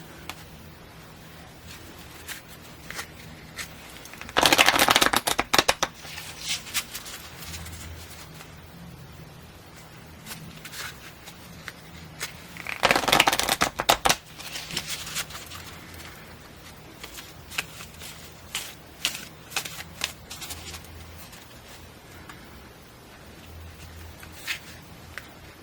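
A deck of tarot cards shuffled by hand in two short bursts of riffling, each lasting about a second, set apart by quiet handling, close and crisp in a calm room.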